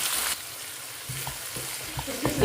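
Onions frying in oil for a cabbage and carrot poriyal, a short loud hiss at the start that drops to a softer sizzle with a few scraping stirs close by.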